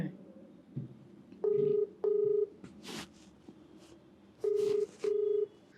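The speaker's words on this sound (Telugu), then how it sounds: "మీరు ఓకే అంటే ఒకసారి కాల్ చేస్తాను." A telephone number being dialed: a short run of touch-tone beeps in two pairs, clear and close, with handling noise between them.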